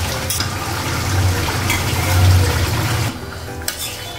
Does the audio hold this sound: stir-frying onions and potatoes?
yes